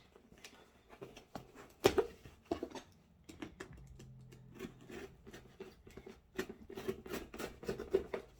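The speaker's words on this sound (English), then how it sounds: "So we are gonna cut this open and try not to cut ourselves." Scissors cutting open a mailed package, a series of irregular snips and plastic crinkles up close, fairly quiet, with pauses between the cuts.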